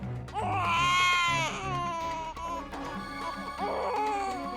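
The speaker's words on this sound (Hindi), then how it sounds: "ये तो बेबी के रोने की आवाज है।" A baby cries loudly in long wailing bursts that rise and fall, breaking briefly before starting up again, close by and with no other voices.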